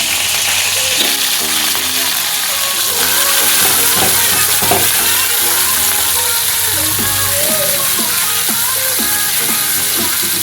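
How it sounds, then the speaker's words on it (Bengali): Potato, cauliflower, carrot and green chillies fry in hot oil, giving a loud, steady sizzle with scattered crackles and stirring clatter throughout, with no talking. "আলু আর ফুলকপি দিয়ে, কাঁচা লঙ্কা, গাজর সব কিছু দিয়ে একটা ভাজা করছিলাম"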